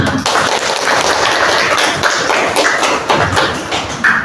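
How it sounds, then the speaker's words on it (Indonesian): Classroom students clap their hands together in a dense, steady burst of applause that runs loud and continuous for about four seconds, many hands overlapping with no voices standing out. "Tepuk tangan dong kita semua"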